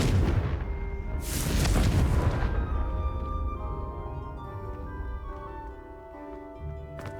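A fiery blast spell in the Hogwarts Legacy video game erupts as a loud, close booming explosion with a crackling burst, then rolls into a fading rumble and ringing tail.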